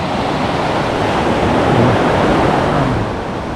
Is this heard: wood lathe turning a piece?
no